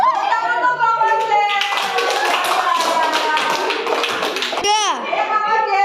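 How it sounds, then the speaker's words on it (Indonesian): Children in an elementary school class clap their hands in applause, a dense, steady burst of clapping lasting several seconds with young voices mixed in, ending in a short sliding squeal. "Tepuk tangan untuk kita semua."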